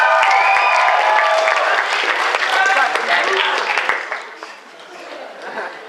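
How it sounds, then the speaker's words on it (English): An audience at a cosplay competition applauds a cosplayer dressed as Raiden from Metal Gear Rising, loud dense clapping with some cheering that swells at first and then gradually thins and fades. "give a round of applause for Houston as Raiden from Metal Gear Rising."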